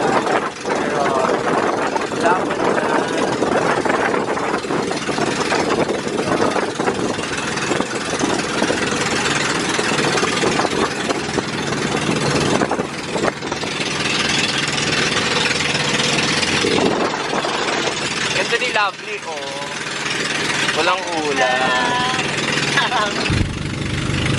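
Ferry engine drones steadily through the crossing on choppy water, loud and continuous beneath people talking nearby.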